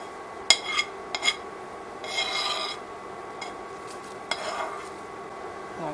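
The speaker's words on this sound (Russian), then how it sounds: "Что у нас закипело, кладем мы сюда, добавляем зажарку" Fried vegetables being scraped from a pan into a boiling soup pot, metal utensil rasping and clinking against cookware in short bursts, with a steady background hiss.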